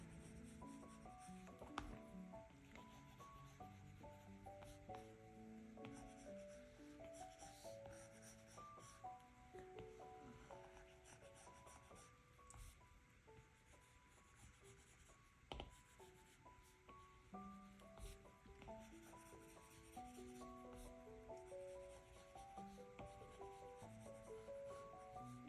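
Very faint, close scratchy rubbing of a stylus scrubbing across a tablet screen while drawing in Procreate, repeated in short strokes over soft background music.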